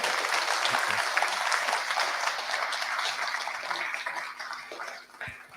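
Enthusiastic applause from an audience at a live science teachers' event, dense steady clapping close by that tapers off toward the end.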